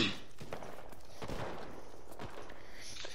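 Distant gunfire in the video game Enlisted crackles in scattered bursts over a steady wash of background noise, faint and continuous.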